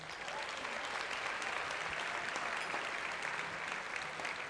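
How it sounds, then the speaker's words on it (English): A corporate workplace summit audience gives a sustained round of applause. Dense, even clapping from many hands continues at a moderate level throughout, with no voices standing out. "once again, give yourselves a round of applause."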